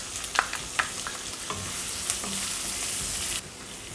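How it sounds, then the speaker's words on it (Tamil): Two finely chopped onions frying and stirred in a pan with cumin while cooking dahi matar paneer, giving a steady close sizzle broken by scraping stirs and light clinks, with no talk. "இந்த ஸ்டேஜில் இது 2 வெங்காயம் பொடி பொடியாக நறுக்கினது இதில் போட்டுருங்க"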